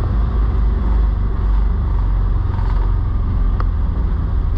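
A 2020 Can-Am Defender Limited cab UTV drives in circles beside a parked car, giving a steady, loud low engine drone that holds constant throughout.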